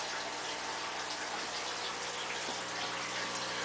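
A glass aquarium is filled to the top with water, producing a steady, loud, close rushing pour that holds without a break throughout, with no voices.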